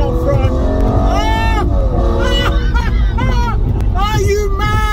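Someone's Lamborghini Murcielago SV engine drones loudly and continuously from inside the moving car, holding a steady roar with rising and falling revs as voices chatter over it.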